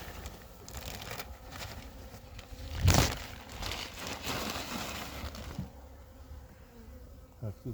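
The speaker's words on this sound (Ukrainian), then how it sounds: "От бачимо, бджоли тут добре є в цьому відділенні." A dense, continuous hum of many honeybees buzzes close up inside a hive, with a brief loud crackle partway through and faint handling noises.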